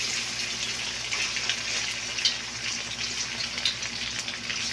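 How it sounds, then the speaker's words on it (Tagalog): Chicken breast pan-frying in a little oil until golden brown, a steady close hiss and sizzle with faint crackles and no talking. "At ipan-fry muna natin yung ating chicken breast. Kailangan na maging golden brown yung"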